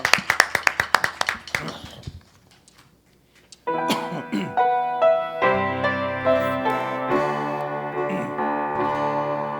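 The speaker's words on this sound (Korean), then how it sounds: "우리 하나님께 영광의 박수 올려드리겠습니다." A church congregation claps in quick, evenly spaced beats for about two seconds. After a brief pause, instrumental worship music with sustained tones comes in.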